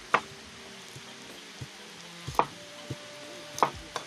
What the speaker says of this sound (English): So you cut the onions